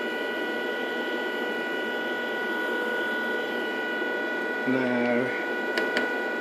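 The motor from an HP 2605 laser printer, running under PID control, spins with a steady high whine and a hum beneath it, while someone speaks briefly near the end.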